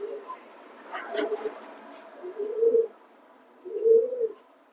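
Racing pigeons in a loft give soft, low coos in a few separate bursts, close by and fairly quiet, with faint chirps and some background murmur between them.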